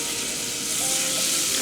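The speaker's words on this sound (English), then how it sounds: "I'm going to throw in my butter, start getting it melted" Butter melting in a saucepan over medium to medium-low heat gives a steady, soft, close sizzling hiss that holds evenly throughout with no voices.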